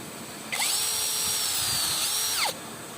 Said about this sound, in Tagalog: Medyo matagal po niyang nabutas kasi siguro dahil sa drill bit kasi kasali lang yan sa freebies.